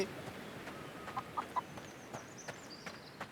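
Chickens in the Blade & Sorcery video game give soft, scattered clucks and small squawks, faint and intermittent over quiet game background with no talking.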